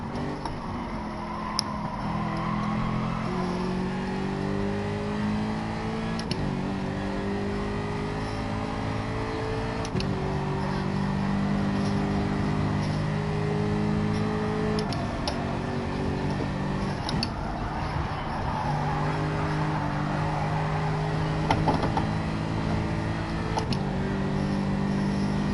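A racing car engine in a racing video game drones steadily throughout, with rising tones climbing through repeated gear changes and brief lifts between shifts, heard close and continuous with faint clicks.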